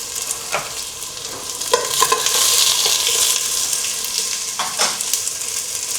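Onions sizzle with ginger in a pan for chicken tinola. The bright frying hiss swells in the middle, and occasional spatula knocks and scrapes sound nearby.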